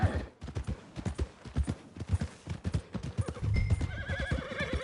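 A horse in the video game Red Dead Redemption 2 clip-clops along in a quick, steady rhythm, then lets out a whinny near the end, loud and close.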